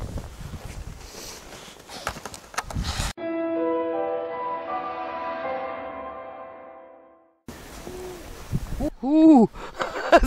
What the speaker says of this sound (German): Jedes Mal gibt die Eule Antwort.